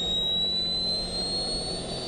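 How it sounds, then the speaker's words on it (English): A jet-powered RC car's turbine screams at open throttle, a loud steady roar with a high piercing whine held close throughout. "What would the jet car do when holding open the throttle for a little bit longer?"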